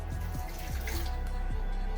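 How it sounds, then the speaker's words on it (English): Water poured from a bottle into a container for a kid-style margarita, a steady close pour with rising gurgles, no talking. "So first, what I want to put in is the water."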